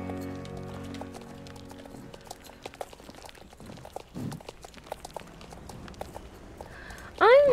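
Horse hooves clip-clop in a video game, a quiet irregular patter of steps under soft music, ending with a brief louder sound.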